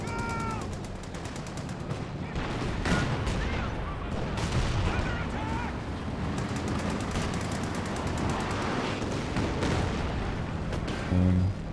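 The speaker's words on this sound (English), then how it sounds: "Very decent Werfer barrage" Nebelwerfer rocket barrage in a World War II strategy game: a rapid series of whooshing launches and impacts pounding over several seconds, mixed with machine-gun fire and battle noise, while a commentator talks.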